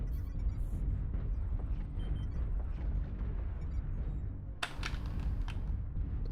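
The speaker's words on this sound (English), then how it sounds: "Hear a lot of gunfire." Dense, rumbling MechWarrior Online battle noise with distant gunfire and booms blending into a constant roar, a sharper burst standing out near the end.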